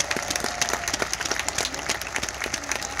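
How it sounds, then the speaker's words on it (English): A crowd gives dense, steady applause at the Golden Valley High School class of 2021 graduation, with many hands clapping close together throughout. "Please give them a round of applause."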